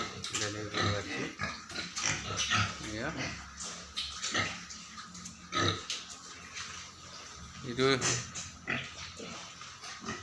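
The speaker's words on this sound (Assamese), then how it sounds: "এই ফাৰ্মৰ গাহৰিখিনি" Pigs on a farm grunt and squeal nearby, mixed with ongoing talk and occasional clatter throughout.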